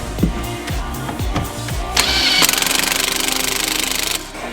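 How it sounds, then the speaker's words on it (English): An impact gun in an engine-removal workshop, fired in several short bursts, then a longer rattling hammer run, close and loud with no talk. "This is my impact gun."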